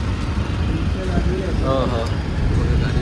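Steady road traffic rumbles past a bus stop by a bridge on the Mumbai–Pune route, a continuous close engine and tyre drone with people talking over it.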